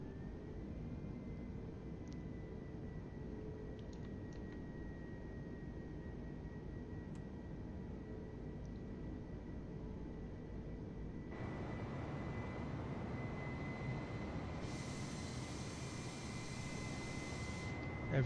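Aircraft engine in a flight simulator game holding a steady drone, then throttling up partway through to a louder, fuller roar with a rising hiss near the end.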